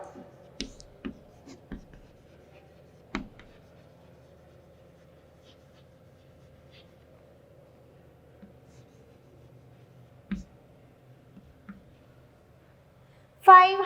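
Writing on a board in a third-grade maths lesson, with scattered faint taps and strokes in a quiet room, separated by pauses and followed by a short loud burst at the end.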